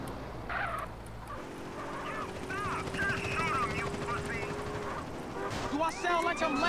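Police helicopter in GTA San Andreas, a steady rotor drone under game sound effects and speech, with quacking, honking bird-like noises mixed in.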